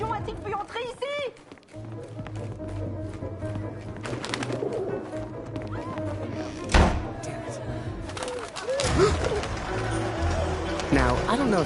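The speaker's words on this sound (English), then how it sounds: "Comment un pigeon a-t-il pu entrer ici?" A pigeon trapped indoors gives soft repeated cooing calls among thumps, footsteps and a sharp knock, with people talking excitedly throughout.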